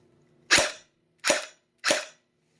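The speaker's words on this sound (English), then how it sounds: "I'm just doing the review right now, but I will dry fire it" A GFAP13 airsoft pistol is dry fired in semi-automatic mode: three sharp, close snapping clicks from separate trigger pulls, evenly spaced with short silences between them.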